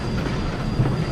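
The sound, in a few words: Cumbres & Toltec Railroad train running on track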